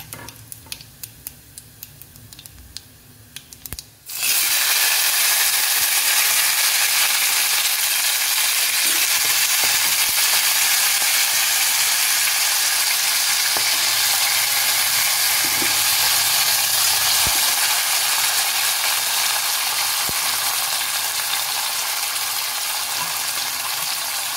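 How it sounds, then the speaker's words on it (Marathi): Washed eggplant hits a pan of fried garlic and erupts into a loud, steady sizzle that carries on unbroken for about twenty seconds, after a few seconds of quieter clinks before it goes in. "आता मी हे धुवून घेतलेले वांगे त्याच्यात टाकणार आहे"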